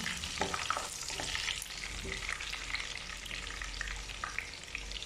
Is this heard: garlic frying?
yes